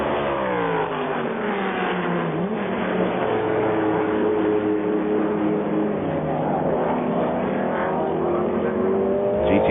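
Race cars at the 1999 Le Mans 24 Hours, including the Mercedes and slower GT2 cars, roar steadily with engines revving and shifting pitch as they run at speed, loud and continuous without talk.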